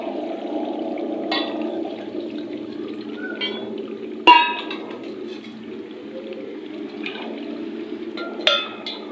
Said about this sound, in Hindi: तो अब मैं इसके अंदर डालने लगी हूँ पानी।